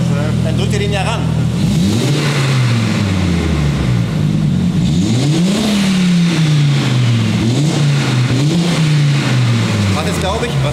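Supercharged car engine revving repeatedly, its pitch rising and falling in several sweeps as it builds boost, loud and steady with people talking over it.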